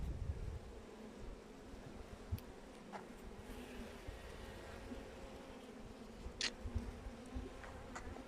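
Carniolan honeybees buzzing around a hive, a low, steady droning hum from many insects, with a few brief louder passes close by.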